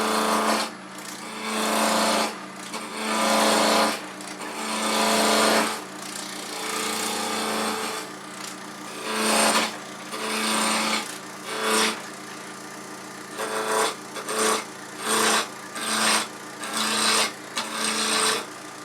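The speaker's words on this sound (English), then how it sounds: "anchor the tool, ride the bevel, lift until it cuts," A wood lathe tool cuts into a spinning wood pepper mill blank, giving repeated rasping, scraping bursts that start and stop with short gaps, loud and close, with no talk.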